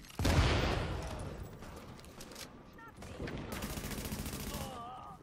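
Loud shotgun fire in the video game The Division, with a heavy blast at the start, then rattling shots and clanking mechanisms, while a voice talks briefly in German underneath.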